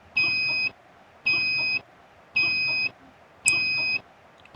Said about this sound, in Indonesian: Token listriknya bunyi, Mas.